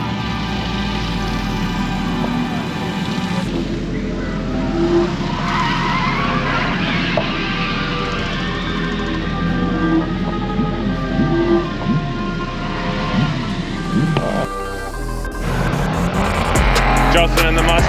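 A 1998 C5 Corvette drifts with tires squealing in long wavering screeches over a loud engine roar, the noise surging and easing in waves before a sharp transition near the end.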